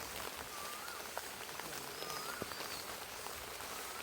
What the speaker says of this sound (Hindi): पूरा जोर से बारिश हो रहा है।